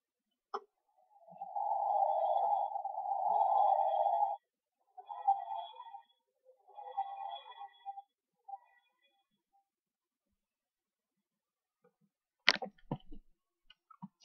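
A low electronic whooshing drone from a toy TARDIS landing pulses in a long swell, then several shorter bursts fading out, followed by a few sharp clicks near the end.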